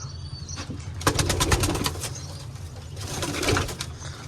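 A pigeon coos in low, rolling repeated calls, close and clear, with a brief flutter of wings and faint chirps from other birds; no one speaks.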